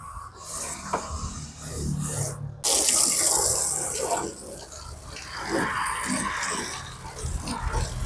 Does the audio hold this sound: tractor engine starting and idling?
no